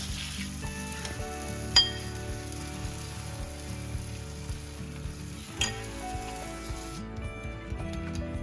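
Bakshalu sizzle in a little oil on a pan, a steady soft crackling hiss with a couple of sharp clicks, close and even throughout, with no talking.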